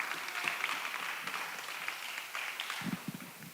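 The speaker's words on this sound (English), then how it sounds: "so she also deserves a hand of applause" Applause from the audience at a community hunger task force forum, a steady patter of clapping lasting several seconds at moderate level, with a few louder claps near the end.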